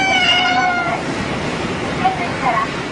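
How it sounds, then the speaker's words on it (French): A cat meows a couple of times, close by, with background noise and voices around it. "C'est un chat."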